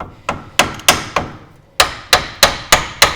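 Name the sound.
brass hammer tapping steering arm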